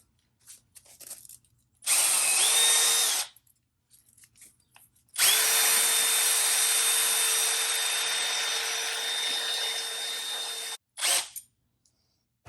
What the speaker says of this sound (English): I just throw it in my drill like this.